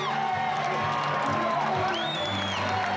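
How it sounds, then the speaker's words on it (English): Large racecourse crowd at Randwick cheering and applauding a champion racehorse, a sustained broad roar of clapping and shouts with whoops rising near the end, steady and loud throughout. "They're standing here and they're applauding a champion."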